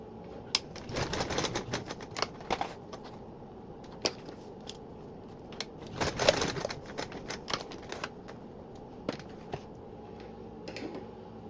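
A sewing machine basting a strap onto a tote bag: rapid rattling stitch bursts in uneven runs with short pauses, fairly faint and close, no talking.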